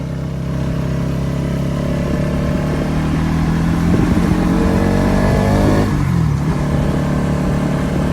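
Bajaj Pulsar NS200 BS6 motorcycle, a 200cc bike, riding along a road with a steady, heavy-bass engine drone and rising revs near the rider, continuous throughout with wind noise.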